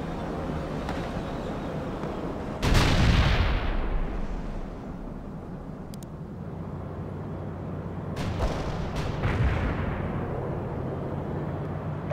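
Gunfire and blasts from the World in Conflict video game: a steady rumbling battle bed punctuated by one heavy explosive boom, then a few sharper reports and crackling bursts, with no talk.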